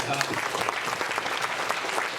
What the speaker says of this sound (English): I wanted to give Gerard a big round of applause